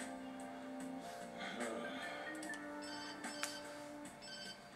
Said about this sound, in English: Ah, generic ringtone.